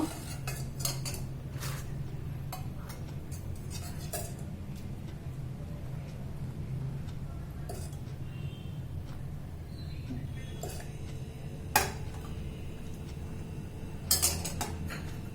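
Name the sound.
mixing milk obbattu and serving onto a plate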